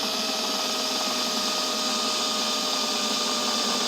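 A drill bores a small hole through the bolt head of a Jaguar XK8, plastic sitting just beneath it; a steady, loud high-pitched whine runs without a break from start to finish, with no voices.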